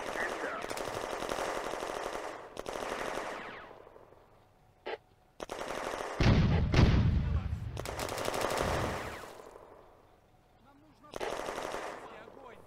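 German Granatwerfer mortar rounds fired on woods on a spur in Firefight Ost Front, with loud repeated bursts and booms in separate rolling volleys, a heavy impact around the middle, and brief gaps between.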